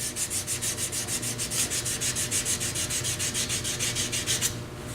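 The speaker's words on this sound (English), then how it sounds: "sanding with the grain" Hand sanding a wooden pen blank with 220 grit sandpaper, working with the grain: a close, rhythmic back-and-forth rasping, about five strokes per second, steady and soft until it eases off at the end.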